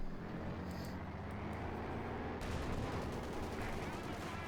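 A machine gun fires in the WWII strategy game Company of Heroes 2. It begins as a muffled battlefield din, then breaks into a dense, rapid, loud stream of shots for the last two seconds.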